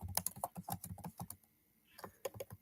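Someone typing on a computer keyboard, with quick, close clicking keystrokes in bursts, a short pause in the middle, then a few more presses.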